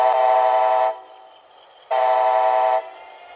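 An HO scale Amtrak model locomotive sounds two loud, sustained horn blasts, each just under a second, separated by a quieter pause with a faint hum.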